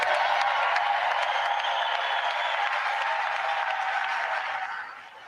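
A large audience in the chamber applauds the President at the State of the Union, a dense steady roar of clapping that holds at full strength for several seconds before starting to taper off.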